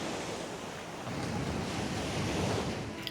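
Ocean surf at the beach at Burleigh Heads, a continuous broad wash of breaking waves with steady roaring noise and some wind buffeting on the microphone, loud and close throughout.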